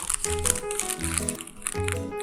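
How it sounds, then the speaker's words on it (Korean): Unneeded plastic wrap being crinkled and pulled away from a candy-filled flower box, a steady rustling crackle running under melodic background music. "이제 여기 불필요한 비닐 부분은 제거를 해줄게요"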